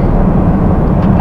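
Steady, loud airplane cabin roar just after boarding a flight to Germany, a dense low rumble held evenly throughout, with the murmur of voices blended into it.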